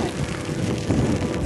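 Steady outdoor rain on the Isle of Harris in Scotland, heard as a continuous broadband hiss mixed with wind rumble and buffeting on the microphone, with no voices.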